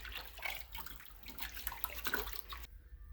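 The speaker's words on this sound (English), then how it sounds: "we've got the hot water running now with the hose" Hot water gushes from a hose to rinse heavy grease off 1974 Volkswagen Beetle parts such as engine tin and carburetor, a steady close splashing rush that cuts off abruptly near the end.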